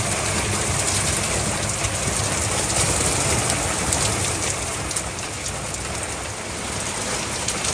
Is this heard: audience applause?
no